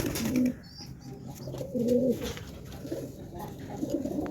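Mayurpankhi pigeons coo repeatedly in low, throaty bursts close by, with a steady background murmur and a few soft rustles.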